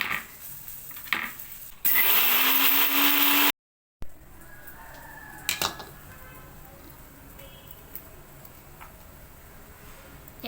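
A kitchen mixer grinder whirs loudly for under two seconds while blending gongura chutney with tamarind, garlic and cumin, then stops abruptly, leaving quiet clinks and handling noises.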